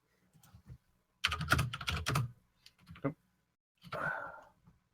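Quiet bursts of computer keyboard typing during a tabletop RPG session, a rapid cluster of key clicks followed by a few shorter taps and a final brief flurry, faint and close with occasional soft breaths.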